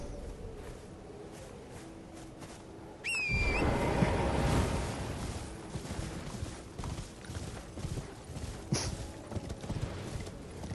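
Horse hooves clip-clop in Elden Ring in Limgrave at nighttime. A steady, moderately loud trotting rhythm sets in after a sharp sound and carries on with ambient game noise.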